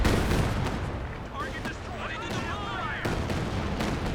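Rocket barrage in Company of Heroes 2, a dense rumbling wash of explosions and whistling projectiles under steady game battle noise, with a commentator talking over it.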